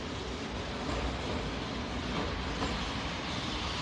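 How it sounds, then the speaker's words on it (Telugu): A train pulling into a station platform, heard as a continuous, dense rumbling roar with steady loudness throughout and no clear individual clanks or horn, close and fairly loud. "ట్రైన్ ఇప్పుడు 3వ ప్లాట్ఫామ్ కి వచ్చింది"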